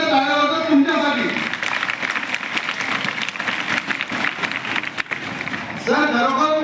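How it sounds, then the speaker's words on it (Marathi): An audience at a school function applauds loudly, dense continuous clapping swelling and holding for several seconds, with a voice speaking over it at the start and end. "सगळ्यांनी जोरदार टाळ्या वाजवा तुमच्यासाठी"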